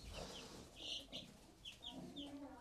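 Young chicks and hens in a brooder give faint high cheeps and soft clucks, in short repeated bursts at low volume.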